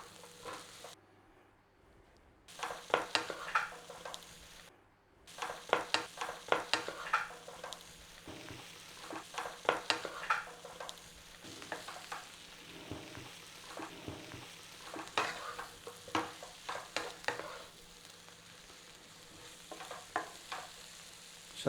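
Sliced mushrooms frying and sizzling in a hot pan coated with a madras spice mix, a steady crackle broken by repeated scraping stirs, close and moderately loud, with no talking.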